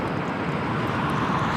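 A Qatar Airways airliner rolls on runway 25 Right at LAX, a steady broadband jet roar held at constant loudness from a moderate distance, with no voices.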